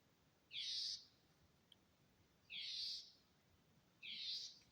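A small gray and whitish bird gives three separate high, buzzy calls of about half a second each, evenly spaced and fairly close, over quiet background hiss, on a forest trail at Cook Forest.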